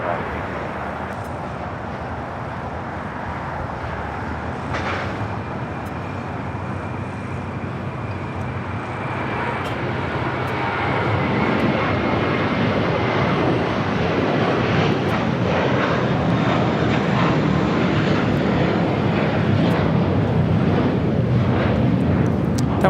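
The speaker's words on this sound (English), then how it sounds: "That was American 274 taking off the JFK" An American Airlines jet takes off at LAX, a broad, steady engine roar that swells and grows louder over the second half, heard at a distance with no talk.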